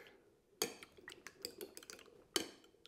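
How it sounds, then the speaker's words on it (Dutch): A fork whisks loose eggs in a bowl while making Chinese-takeaway-style nasi goreng, giving faint, quick, irregular metallic clinks and taps against a quiet kitchen backdrop. "Kloppen we even een beetje los met een vork."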